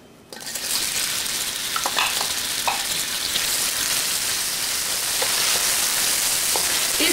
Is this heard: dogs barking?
no